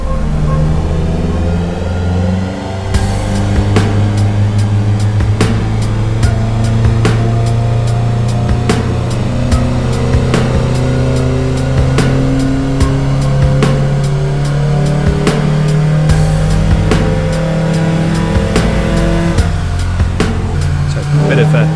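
A Ford Fiesta ST with a Duratec 2.0 engine runs on dyno rollers, its steady loud engine drone holding a rising and sustained pitch throughout, with sharp periodic clicks or ticks over the constant mechanical roar.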